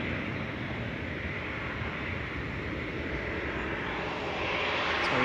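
Sun Express Boeing 737-800 departing Manchester, a faint, steady jet roar that builds slightly toward the end, with no voices.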